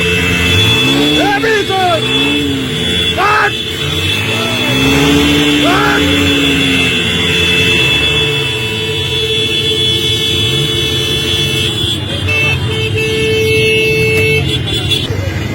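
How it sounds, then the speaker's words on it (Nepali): Horns and sirens from the vehicles in Prime Minister KP Sharma Oli's motorcade sound loudly and continuously on a road in Surkhet, with wavering siren tones and honking over busy traffic noise. "केपी ओलीको सवारी सवारी भित्रको सवारी"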